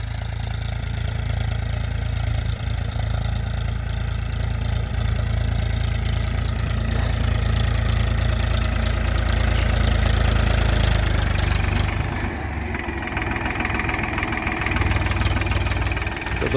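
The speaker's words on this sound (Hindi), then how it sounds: "इंजन की आवाज़ क्या शानदार है" A three-cylinder Powertrac 439 tractor engine runs steadily at close range, a loud low rumble with a knocking pulse that shifts in tone near the end.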